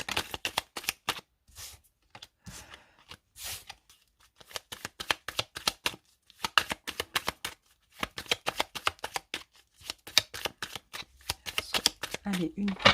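Tarot cards shuffled and cut by hand in quick riffling bursts with short pauses, close and crisp, with someone speaking intermittently over them.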